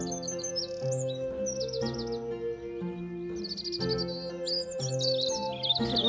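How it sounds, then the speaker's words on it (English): Many birds sing and chirp continuously in a spring garden, with overlapping warbles and high tweets forming a busy, lively chorus with no speech. "Isn't it lovely? You can hear the birds singing."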